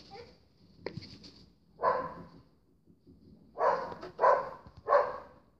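A dog barks outdoors, one sharp bark followed after a pause by a group of three or four louder, close barks, with quiet background between them and no speech.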